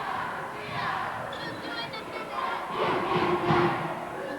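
A high school boys basketball crowd at a Sitka High versus KayHi Kings game roars and shouts, a dense swelling cheer that rises toward the end, with talk mixed in.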